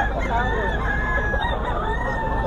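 A White Kelso gamecock stag crows nearby at a rooster farm, its drawn-out call carrying over other fowl clucking and crowing in the background, with people talking faintly.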